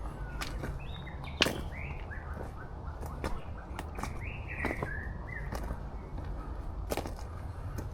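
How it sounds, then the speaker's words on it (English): A bird calls in a Hawaiian forest with a few short, rising chirps at moderate distance. Sharp snaps and footsteps-like clicks are scattered over quiet, steady background ambience. "Heard a bird."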